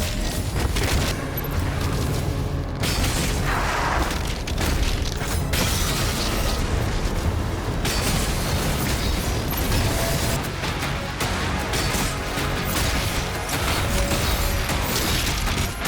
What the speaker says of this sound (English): watch as I falter him by launching a fodder demon from mid-range, and then close the space for the approach